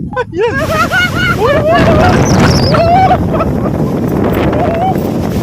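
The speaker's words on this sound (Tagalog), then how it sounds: "Napakalakas ng hangin mga kabayan." Strong wind buffeting a microphone on a mountain outing at Sapang Bulak, Bulacan, a loud continuous roar throughout, with excited voices and whoops over it.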